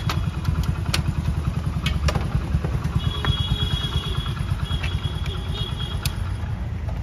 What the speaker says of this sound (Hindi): और अभी हम बाइक पार्क कर रहे हैं अपनी।